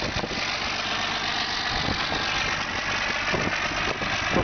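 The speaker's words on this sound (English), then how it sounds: "we'll do a video of the tractor running" A 1977 Allis-Chalmers farm tractor engine idles steadily with a continuous low, rough rumble and faint rattling vibration, running without pause and with no voices.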